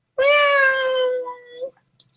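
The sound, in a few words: person imitating a cat meow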